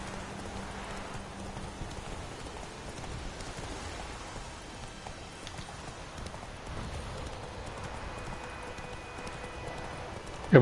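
Horse hooves clip-clopping on a rainy night in The Witcher 3, a soft continuous trot under the steady patter of rain, with someone talking over it.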